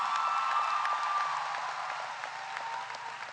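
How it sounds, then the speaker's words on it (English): Sustained audience applause at a Caribbean Maritime University graduation ceremony for two singers, a steady dense patter of many hands that fades slightly toward the end, filling the hall without talk. "let's give them another big round of applause"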